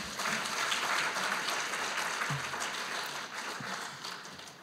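An audience at an academic conference award ceremony claps for award recipients, a fairly soft, even patter of many hands that slowly fades.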